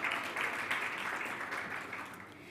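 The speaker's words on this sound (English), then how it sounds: "So please, round of applause." A business roadshow audience gives a short burst of applause, soft and somewhat distant clapping from a modest crowd, tapering slightly.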